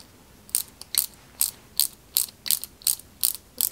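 A small screw is driven into a 1/8-scale Ferrari 330 P4 model kit with a ratcheting driver. About nine crisp, close clicks come at a fairly steady pace over a quiet background.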